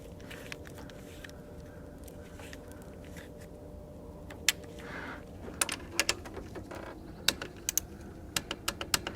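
Torque wrench tightening a bolt on a GM HT6 AC compressor in a Chevy/GMC OBS truck, heard as a scattering of sharp metallic clicks and ticks over a low steady hum, growing more frequent toward the end.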